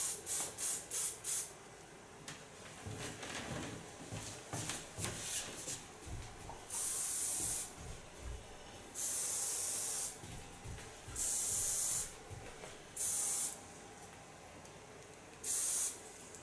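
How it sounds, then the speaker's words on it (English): A soft hairspray is sprayed onto hair in several bursts of close, loud hissing, each lasting about a second, between quieter handling and rustling. "Take a nice soft hairspray."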